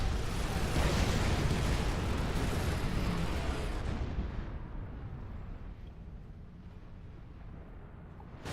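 Cruisers destroyed in the Supreme Commander 2 video game: a dense, roaring wall of explosion and artillery-like rumble that fills the clip, then thins and fades into a quieter low rumble, with no talk over it.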